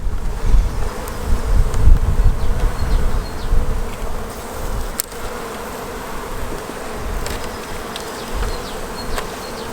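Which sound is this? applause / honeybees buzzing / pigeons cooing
honeybees buzzing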